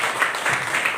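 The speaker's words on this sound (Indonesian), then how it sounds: "Tepuk tangan buat Tuhan." Congregation clapping in church during a Christmas service, a dense wash of applause filling a short moment, fairly loud and steady.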